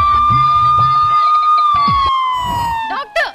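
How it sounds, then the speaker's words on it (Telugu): An ambulance siren sound effect plays during a comedy stage show: a loud, steady wailing tone that slowly slides down in pitch, with voices and stage noise underneath. "ఇప్పుడే వస్తుంది అంబులెన్స్"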